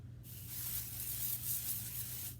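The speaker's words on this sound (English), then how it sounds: "Pixie spray." Pixie spray hisses from a can over a card-making stencil, one steady close spray lasting about two seconds between quiet pauses.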